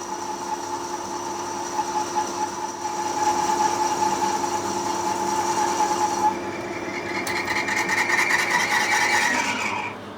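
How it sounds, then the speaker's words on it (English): A lathe tool with an aluminium-cutting tip turns a taper on a bronze part, making a steady, close mechanical whirr with a sustained tone and a rasping cutting hiss that changes character late on. "The tip I'm using is designed for cutting aluminium, and I find it cuts bronze really, really nicely"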